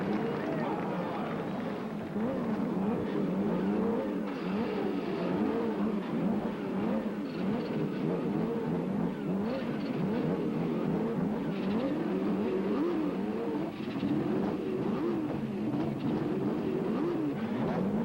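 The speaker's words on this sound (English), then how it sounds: "gentlemen, start your engines" IndyCar race car engines start and rev at the 1992 Milwaukee race, building into a dense, continuous droning roar with wavering pitch as many cars idle and blip together, while a voice talks over the noise.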